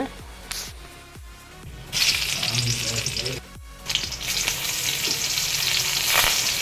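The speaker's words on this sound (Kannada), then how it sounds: "ಇದಕ್ಕೆ ಒಂದು ಒಳ್ಳೆಯ ಒಗ್ಗರಣೆಯನ್ನು ಕೊಡೋಣ" Sharp clinks, then a burst of loud sizzling as crushed garlic, curry leaves and mustard seeds hit hot oil, with crackling and spattering that rises again after a brief lull.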